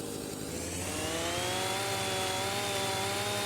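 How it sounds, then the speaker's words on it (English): A harsh, thin chainsaw in a logging roleplay game cutting down trees, its engine revving up steadily and running loud and continuous at close range with no voices. "Man, it's a rough sounding chainsaw."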